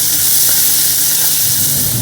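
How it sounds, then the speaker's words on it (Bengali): Water poured onto cabbage-and-spice paste frying in a pan sets off a loud, steady, close sizzle with hissing steam, holding strong and unbroken throughout with no voices. "মশলাটা কষে গেছে সুন্দরভাবে, হয়ে গেছে মশলা কষানো। এবার জল দিয়ে দেবো।"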